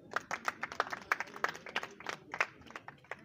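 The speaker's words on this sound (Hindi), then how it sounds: "इसलिए आपके लिए तालियां" Applause at a Delhi municipal corporation workers' gathering, made of distinct, fairly sparse claps in an uneven rhythm that sound like a modest group clapping, moderately close, with no voices over them.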